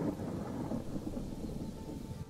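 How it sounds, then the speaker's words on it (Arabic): Low rolling thunder with a wash of steady rain in the video game Thief Simulator 2, a continuous rumble at moderate loudness with no voices. "الله صوت الرعد"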